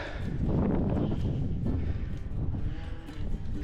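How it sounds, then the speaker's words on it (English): Steady wind roars and buffets across an open hilltop near the sea in Northern Ireland, a low rushing noise that swells and gusts without pause. "Quite windy coming over the top here."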